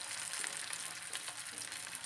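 Quiet, steady crackle and sizzle of mutton malai tikki patties frying in hot oil in a pan, with a dense spatter of tiny pops throughout and no voices.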